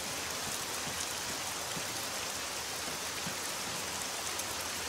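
Steady rain falls in a loud, even wash of hissing noise, close and unbroken, with no voices or other sounds standing out.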